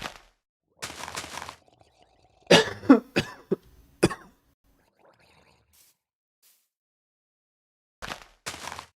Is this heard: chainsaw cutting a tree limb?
no